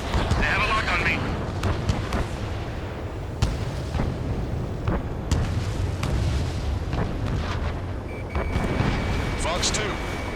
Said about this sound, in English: Missile hit. Missile is closing.